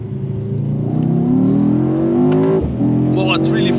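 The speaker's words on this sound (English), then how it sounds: "let's do that by flooring this car" A 2022 Mercedes E63S AMG, sharing its engine with the GT63, accelerates at full throttle to 100 km/h, its loud engine note climbing steadily with a brief gear-shift dip before rising again, close up.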